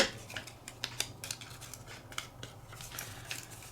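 Scissors trimming the cut edges of paper for junk journal embellishments: a run of short, crisp snips in an irregular rhythm, close and fairly quiet, with faint handling sounds between the cuts and no talking.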